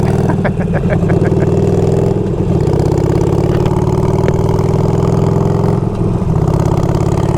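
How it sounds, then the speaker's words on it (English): A motorcycle engine runs loud and close on a ride through the Dutchess County, New York countryside, a steady throbbing drone with brief revs and a few faint clicks. "Guess I should keep the bike running too, right?"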